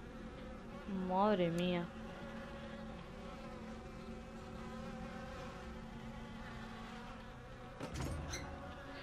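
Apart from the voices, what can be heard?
flies buzzing in the video game Obscuritas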